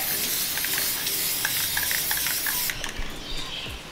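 Spray paint hisses onto a Holden Commodore grille emblem in one steady, close burst lasting under three seconds, then cuts off, leaving a few soft handling knocks and taps.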